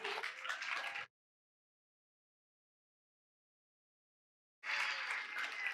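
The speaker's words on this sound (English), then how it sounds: "What are you guys clapping about?" Audience clapping at a church Advent puppet show, two bursts of broadband applause with a silent gap in between, moderately loud and with no talk over it.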